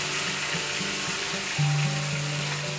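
Panko-breaded cuttlefish frying in hot oil, a steady broad sizzle holding evenly throughout with a faint low hum, no voices.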